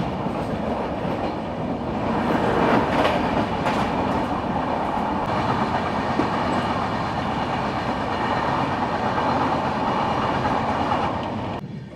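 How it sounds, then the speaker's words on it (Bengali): Jammu Tawi Express 13152 pulling into a station, a loud, steady rumble of rolling coaches with rhythmic clickety-clack of wheels on rail joints running nearly the whole time, fading slightly at the end. "এই ঢুকছে 13152 জম্মু তাওয়াই এক্সপ্রেস।"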